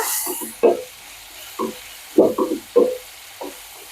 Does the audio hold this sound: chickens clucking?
no